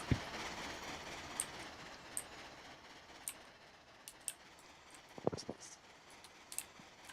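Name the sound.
train engines running in railroad video game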